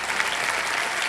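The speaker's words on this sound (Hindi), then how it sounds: "जोरदार तालियां बज जाए इनके लिए।" Studio audience applause on a televised Hindi quiz show, a brief burst of steady, dense clapping from the crowd, moderately loud and unbroken.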